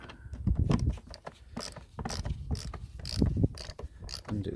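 Screwdriver undoing a screw during an air filter teardown, a run of close, irregular ratcheting clicks and mechanical rattles with brief pauses between turns.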